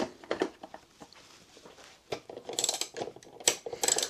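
A motorcycle's rear cowl is worked loose and lifted off, giving a scattered run of close plastic clicks, taps and light rattles, with a busier cluster of sharp clacks toward the end.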